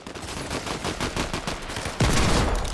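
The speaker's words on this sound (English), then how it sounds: "I just no-scoped him with the deagle." Gunfire in the video game Fortnite, a Desert Eagle pistol among it, crackles close and loud in rapid bursts, ending in a sharper, heavier blast near the end.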